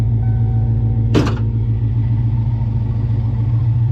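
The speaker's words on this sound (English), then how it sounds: "Car seems to purr away." A Coyote V8 swapped into a 1993 Foxbody Mustang 5.0 idles smoothly, a close, steady low rumble with an even pulse and a brief sharp clatter near the start, no voices.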